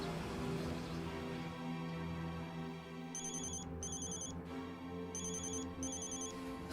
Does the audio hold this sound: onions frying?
no